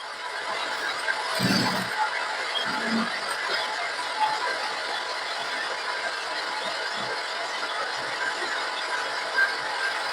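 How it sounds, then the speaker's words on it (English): Sewing machine stitching along the line of a suit welt pocket with flap, a steady mechanical whirr and ticking running the whole time, with a few brief low bumps near the start. "Keep checking and keep on stitching on that line."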